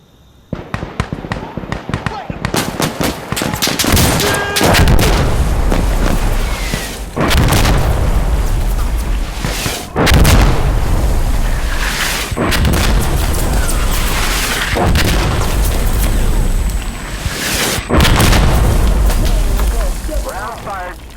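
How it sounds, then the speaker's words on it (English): Artillery shells fire in the Insurgency Sandstorm video game, a series of loud, heavy booms every few seconds with rumbling tails, plus voices over the top. "Friendly shells outgoing!"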